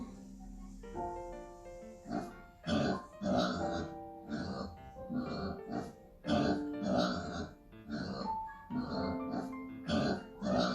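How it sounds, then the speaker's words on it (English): A pig grunts and oinks in a rapid, irregular series of short, snorting bursts, close and fairly loud, with brief gaps between clusters. "Pig."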